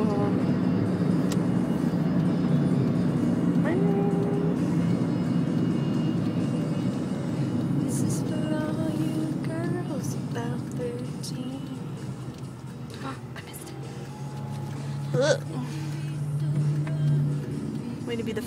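Steady road rumble and engine drone from inside a car driving past mountains, continuous and moderately loud, with people talking over it and a brief knock near the end.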